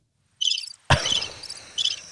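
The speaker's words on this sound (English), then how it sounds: "I hear crickets" Crickets chirp in two short high-pitched bursts separated by a sudden sharp knock, the chirring loud and near against a quiet background.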